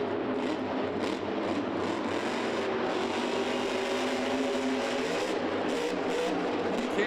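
Grave Digger monster truck, running with a broken rear axle, roars steadily in a big arena at a Monster Jam show in the Georgia Dome in Atlanta, its loud engine holding a continuous heavy rumble over crowd noise.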